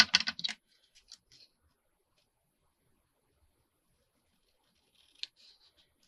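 Scissors snip through material while making clip-in pen holders, a quick burst of close cuts at the start, then near silence with a small click and one more short sharp snip near the end.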